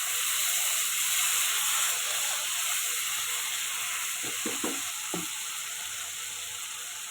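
Ginger garlic paste fries in butter with a little oil in a pan, giving a steady, close sizzling hiss, with a few soft stirring knocks midway.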